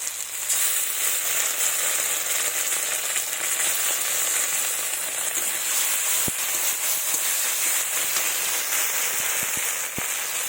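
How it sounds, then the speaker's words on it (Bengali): A paste of ground dried chilli, ginger and cumin frying in hot oil for a spicy soybean dish, a loud dense unbroken sizzle like heavy rain, with a few sharp spoon ticks toward the end. "এবার আমি এখানে শুকনো লঙ্কা বাটা, আদা বাটা, জিরে বাটা মশলাটা দিয়ে দেবো।"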